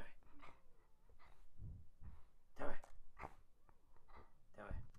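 A dog growls low and close in rough bursts, with whimpering breaths and short throaty noises between, fairly quiet and without speech over it.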